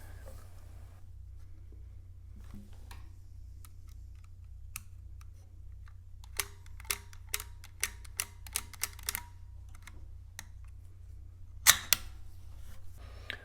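An S&N mechanical adding machine with its front piece off, racks and chains ratcheting and releasing: faint background hum, then a quick series of light metallic clicks and a sharper clatter near the end.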